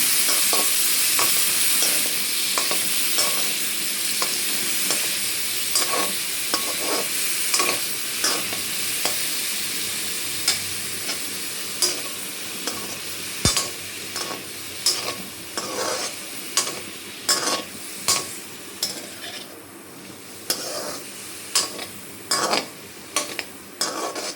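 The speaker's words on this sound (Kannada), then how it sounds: "ಅದನ್ನು ಲೋ ಫ್ಲೇಮಲ್ಲಿ ಈ ರೀತಿಯಾಗಿ ಫ್ರೈ ಮಾಡಬೇಕು" Small pieces of paneer fry on a low flame, giving a soft, continuous sizzle broken by regular scrapes and taps of a spoon stirring in the pan, close up with no voices.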